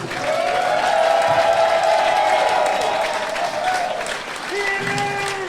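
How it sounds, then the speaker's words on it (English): Sustained applause from a large wrestling event audience with cheering and crowd noise, steady and loud throughout, fading slightly near the end before rising again. "So give yourselves a round of applause."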